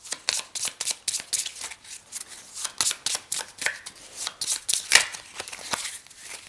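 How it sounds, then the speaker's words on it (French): A deck of Dominus game cards being shuffled by hand, a steady run of quick riffling flicks and soft slaps, close and fairly quiet, with no talk. "je remélange le paquet de cartes Dominus"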